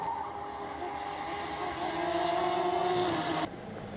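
Radical race cars roar across the start-finish line at Donington Park in a close pack, engine notes rising and swelling as they pass, then cutting off abruptly.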